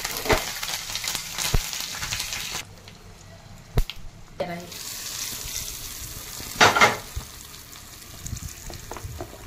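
Mustard seeds, cumin, curry leaves and red chilli are tempered in hot oil for a coconut chutney. Bursts of sizzling and crackling come with scraping stirs and brief quiet gaps in between.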